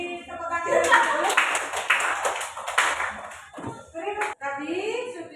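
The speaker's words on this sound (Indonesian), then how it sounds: "Beri tepuk tangan dulu." Clapping from a classroom audience at the close of a group maths presentation, a steady burst of hands mixed with children's voices speaking over it, dipping briefly before talk and clapping carry on.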